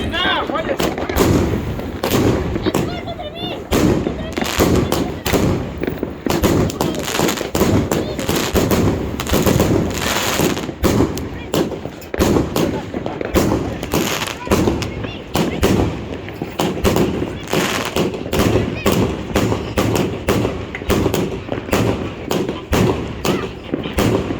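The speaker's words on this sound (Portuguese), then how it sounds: "um vídeo de uma bateria de 36 disparos e 30mm de calibre, espetacular" A rapid, continuous barrage from a 36-shot, 30mm-calibre fireworks battery, shots bursting one after another, loud and dense, with sharp cracks and booming thumps filling the whole stretch.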